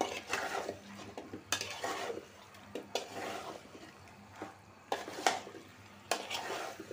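Chicken and potato pieces being stirred and sautéed in a pan, with repeated scraping and clinking strokes of a utensil over a faint sizzle, close and fairly quiet.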